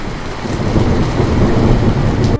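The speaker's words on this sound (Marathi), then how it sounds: "अचानक जोरदार पाऊस आला" A steady roar of heavy rain with rumbling thunder plays as a loud, continuous cartoon storm effect that cuts off abruptly at the end.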